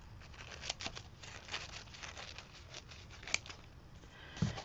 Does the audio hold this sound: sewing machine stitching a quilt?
no